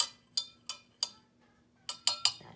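A spoon stirring a hot toddy clinks sharply against the glass in a loose series of bright taps, three spaced strikes, a pause, then a quicker cluster of three, close and clear with no talk.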